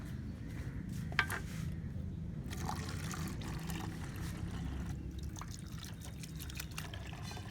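Water is poured and trickles across a car's painted surface during polishing work, a soft continuous wet splashing with scattered drips under a low background hum.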